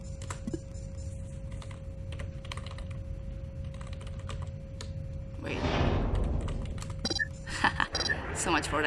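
Typing commands on a computer keyboard while playing the game Duskers: rapid, light key clicks in an irregular run, with a steady hum in the background and a brief burst of other game sound partway through.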